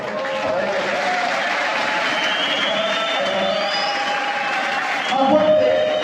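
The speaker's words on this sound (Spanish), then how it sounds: "Y un aplauso para él." An audience at a Labor Day commemoration in Veracruz applauds in a large hall, with steady clapping and some crowd noise that swells briefly near the end, heard at a moderate distance.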